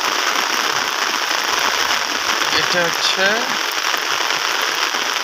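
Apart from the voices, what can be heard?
heavy morning rain falling on the road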